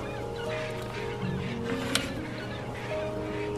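A bird squawks in the video game Broken Age, giving short honking, goose-like calls over a low game background hum, moderately close and not very loud, with no talking.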